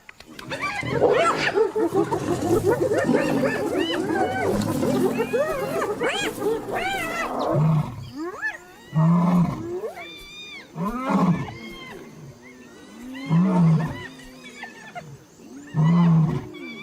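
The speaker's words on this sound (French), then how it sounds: "Un des lions revient pour récupérer son dû. Il fait mine d'attaquer les charognards." A lion feigning a charge at hyenas scavenging a nearly stripped carcass on the African savanna: dense snarling and growling at first, then a series of deep, spaced grunting roars, close and loud, with no talk.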